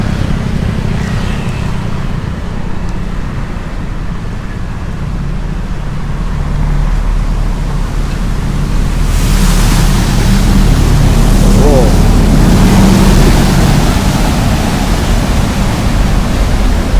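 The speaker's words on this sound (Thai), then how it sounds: "ได้ยินเสียงเรือมาแต่ไกลนะครับ" A steady low engine rumble over a broad wash of water noise on Khlong Saen Saep canal, growing louder toward the end as a boat draws nearer.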